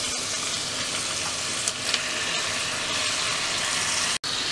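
Minced meat sizzles and crackles in a hot pan while it is stirred. The frying hiss is steady and close, with a couple of brief scraping knocks and no speech.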